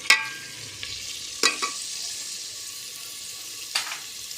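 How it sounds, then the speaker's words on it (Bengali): Food frying in a pan in a home kitchen is stirred with a utensil. A soft, steady sizzle runs throughout, broken by a few quick scrapes and clinks against the pan, with no voices. "এখন আমি এটাকে নাড়াচড়া দিয়ে দিচ্ছি সুন্দর করে এইভাবে"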